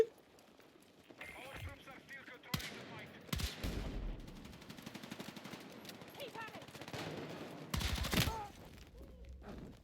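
Shotgun fire in a shooter video game, with several loud, separate blasts spread among rapid gunfire and other game noise while a person talks over the action.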